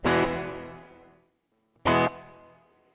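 Two strummed electric guitar chords ring out through heavy reverb, each decaying slowly into a long washy tail, separated by a brief silence.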